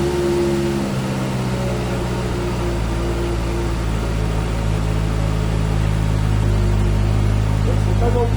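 A Benda LFC 700 motorcycle engine firing up and settling into a loud, steady, close idle hum that runs unbroken to the end.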